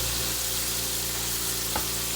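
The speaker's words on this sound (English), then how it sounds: "now we're ready to get our meat sauce simmering on the stove" Ground beef meat sauce sizzles steadily in a pan on the stove, a constant close frying hiss with a brief stir or scrape near the end and no talking.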